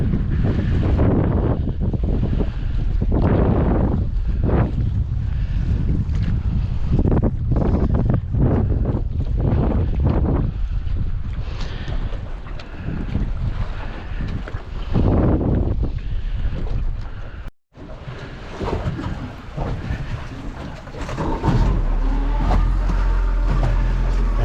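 Strong wind buffets a small boat camping overnight off Tasmania's east coast, gusts thumping the microphone in heavy uneven bursts over a low water rumble, briefly cutting out before resuming.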